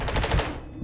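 Burst of rapid automatic gunfire in a first-person shooter video game, a fast run of sharp shots lasting under a second, loud and close with no talk over it.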